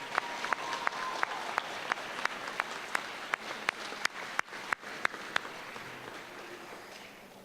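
Audience applause at a Board of Education awards and recognition ceremony honoring Nationally Board Certified teachers: a steady wash of clapping from a room full of people, with sharper individual claps standing out, then gradually thinning out.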